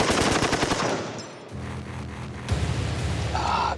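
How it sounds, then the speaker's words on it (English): An M60 machine gun fires into a pile of gunpowder in a rapid, loud burst of close shots that stops abruptly, followed by a rumbling blast and lingering noise. "The muzzle blast from the M60 blew the powder completely off the floor before it even had a chance to light it."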